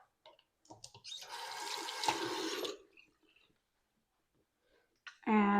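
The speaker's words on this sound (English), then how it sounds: "now wash my hands again." Water runs from a tap for a couple of seconds while hands are washed at a bathroom sink, a steady close hiss with light splashing, then stopping.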